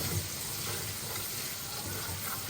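Onion paste sizzles and fries in a hot pan while a chicken roast is being cooked, a steady soft crackle close up with no voices.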